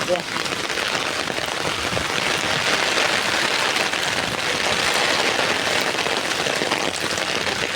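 Heavy typhoon rain pours down steadily, a dense constant hiss of drops hitting surfaces with no letup.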